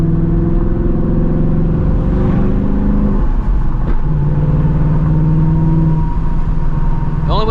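A 500HP 2024 Mustang GT V8 roars through a hard pull heard from inside the car, with a loud, continuous engine drone that rises in pitch, drops briefly at a gear change, then climbs again.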